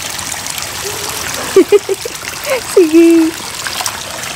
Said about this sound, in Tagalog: Yung daanan namin, daanan din ng tubig